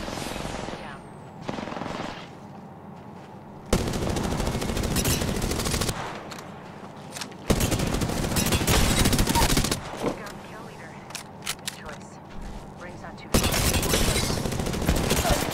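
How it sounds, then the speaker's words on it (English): Automatic weapon fire from an Apex Legends match comes in several long, loud sustained bursts with short gaps between them, under an intense game soundscape. "Opening fire."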